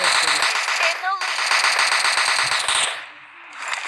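Rapid automatic gunfire from the mobile shooter game PUBG Mobile Lite rattles in dense, loud bursts for most of the stretch, then breaks off briefly near the end, with a voice talking over parts of it.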